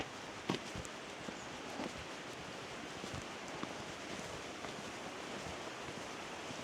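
A small waterfall on a forest trail in Glenariff Forest Park makes a faint, steady rushing wash with no voices over it.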